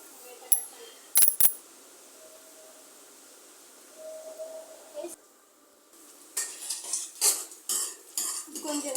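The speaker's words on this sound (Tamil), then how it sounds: "உருளைக்கிழங்கு பொரியலுக்கு நம்ம தாளித்து விட்டுடலாம்" Metal utensils clink and scrape against a pan, then a soft sizzle rises as spices hit hot oil, tempering them for a potato stir-fry, followed by more stirring clatter.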